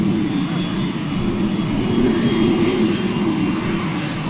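A Vueling airliner passes at Manchester Airport, its jet engines giving a loud, steady broadband roar that holds level for the whole stretch, heard close and alone.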